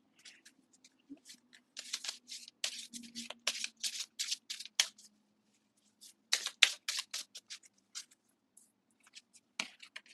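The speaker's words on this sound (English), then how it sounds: "I'm also going to be drawing a fortune oracle deck card" Cards from a fortune oracle deck are handled and drawn, giving soft papery flicks and shuffling rustles in short bursts with pauses, close and quiet in a still room.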